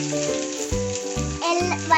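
Mustard seeds crackle and sizzle in hot oil in a pan, a short burst of close hissing heard under prominent background music.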